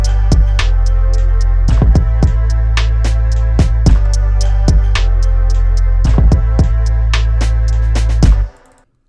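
A hip hop beat thumps along with a heavy sustained sub bass under sharp snare and percussion hits in a steady loop, loud and dense, before cutting off abruptly near the end.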